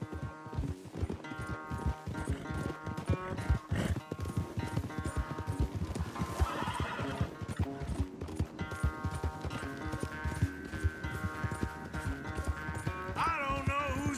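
Horse galloping in a race in Red Dead Redemption 2, with steady clip-clop hoofbeats running throughout under a dense game music score, with a brief whinny possible.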